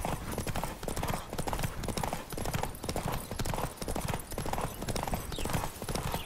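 Horse hooves pound in a rapid, steady galloping rhythm throughout in The Witcher 3, loud and close with continuous clatter and rushing motion.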